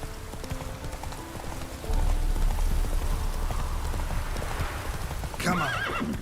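In a video game, the horse Roach gallops with rapid rhythmic clip-clop hoofbeats, joined by a neigh near the end, under steady rain-like ambience.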